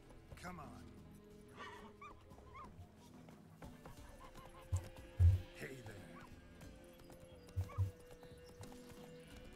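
Horse hooves in The Witcher 3 on PC: rhythmic clip-clop of a ridden horse under ambient game music and a low hum, with a few heavier thuds in the middle and near the end.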